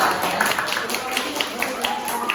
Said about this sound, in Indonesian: Kasih tepuk tangan dulu untuk kelompok 3 ya.